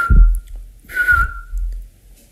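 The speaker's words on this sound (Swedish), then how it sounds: "Sparvugglans vissling är ett säkert tecken på att dagen är nära" A clear, pure whistled note of a Eurasian pygmy owl sounds twice, the second longer, over low rumbling thumps of handling noise in a quiet setting.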